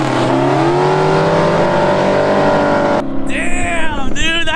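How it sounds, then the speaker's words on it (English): A 1970 Dodge Charger restomod drag races at Barona, its engine roaring loud and sustained as it pulls down the strip, then fading into excited voices and wind buffeting nearby. "we also got Esparza driving the RestoMods 70 Charger"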